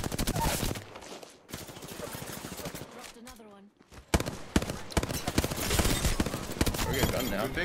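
Gunfire rattles in the Apex Legends battle royale shooter as bursts of rapid shots crackle over in-game sounds, loud and dense, with a short lull in the middle and players talking throughout.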